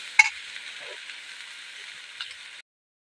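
An egg frying in a pan with chili sizzles steadily at close range, with a brief clatter near the start and another around two seconds, then the sizzle cuts off abruptly.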